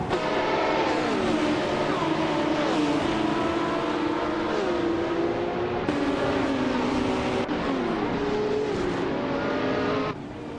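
Racing cars, including a GT3, roar continuously in a racing video game, with engine notes climbing and shifting through the gears as the cars run nose to tail, loud and close.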